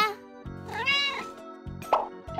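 A cartoon kitten meows in a children's pet-grooming cartoon, with several drawn-out, pitch-bending cries over a light musical background, close and clear.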